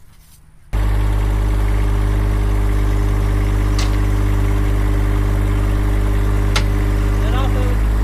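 Tractor engine pulling fence poles, starting abruptly and then running steadily and loudly with a deep, constant drone, plus a couple of brief clanks.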